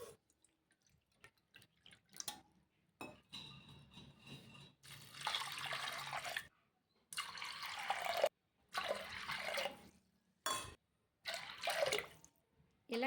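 Water pours from a cup onto soaked lentils in several separate splashing bursts with brief silent gaps, close and moderately loud.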